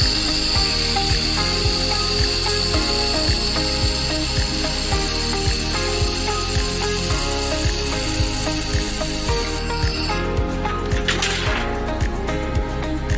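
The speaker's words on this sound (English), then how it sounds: "Firstly, we will show you laser welding." A 4-in-1 handheld laser welding, cutting and cleaning machine with water cooling runs with a steady tonal hum and regular rhythmic clicking pulses, with a brief burst of hissing noise near the end.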